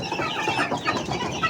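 Caged hens cluck in a dense, overlapping chorus close by, with irregular bursts of clucking filling the short stretch and no talk.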